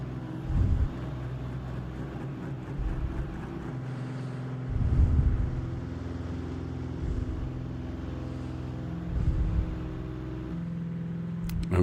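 A race car engine in Gran Turismo 7 drones steadily while sitting on the grid, with several rising revs that swell and drop back, in a continuous, moderately loud hum.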